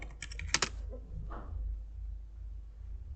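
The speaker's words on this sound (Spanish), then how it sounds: "Déjenme lo busco en un teclado." Typing on a computer keyboard nearby, a quick run of clicking keystrokes at the start, then a few scattered taps over a low steady hum.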